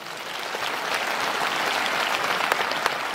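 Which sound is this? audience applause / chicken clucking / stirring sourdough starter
audience applause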